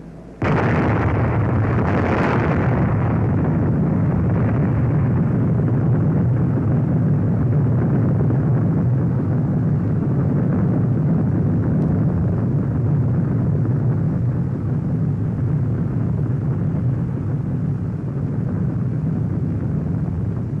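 Atomic bomb detonating over a fleet of naval target ships, a sustained deep rumbling roar that starts abruptly and stays loud and dense for about twenty seconds with no voices.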